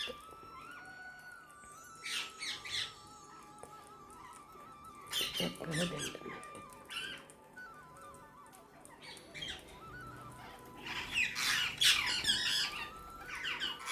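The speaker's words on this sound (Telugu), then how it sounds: "చిలకలు మాత్రం ఉదయం సాయంత్రం వేళల్లో నాలుగైదు ట్రిప్పులు వచ్చేస్తాయి" Parrots squawking at a bird feeder, several harsh screeches and squeaky calls in scattered bursts, moderately close over a quiet background.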